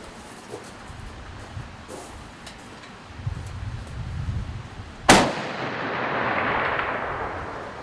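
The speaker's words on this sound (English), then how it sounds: "Commence firing." Gunfire at an outdoor shooting competition: a single sharp loud report stands out midway, followed by a lingering echo, against rustling ambient noise and faint distant shots.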